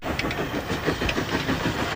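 A moving train rolls along the rails in a steady, dense rumble with rhythmic clickety-clack beats, loud and continuous throughout without any speech.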